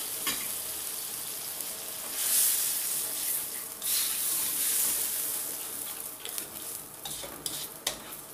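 Water poured into a hot frying pan with prawns and eggs sets off a loud, hissing sizzle, bursts of steam rising and falling while a spatula stirs and scrapes in between.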